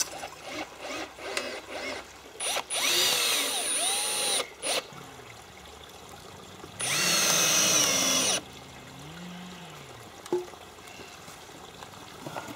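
Cordless drill driving in a final screw, two loud sustained whirring bursts with short trigger blips and ratcheting clicks between them, close by with no talk.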